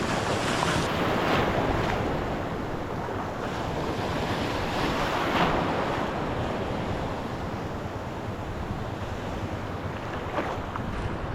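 Rough sea waves surge and wash continuously at close range, loud and steady, with heavy wind buffeting the microphone from an open fishing boat on the water.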